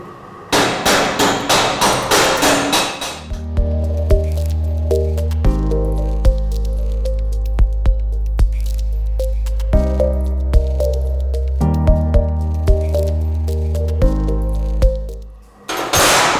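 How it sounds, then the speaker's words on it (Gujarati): Chipping hammer knocking slag off an arc-welded butt joint in flat position, a fast run of loud metallic taps, then a steady drone with occasional sharp strikes. "હવે આપણે ચિપિંગ એમરની મદદથી કરેલ વેલ્ડિંગ ઉપર ચિપિંગ ઓપરેશન કરીશું"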